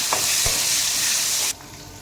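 Chopped tomatoes and turmeric sauté in a hot pan for fish kulambu, giving a dense, steady sizzle with a couple of stirring knocks, cutting off abruptly near the end.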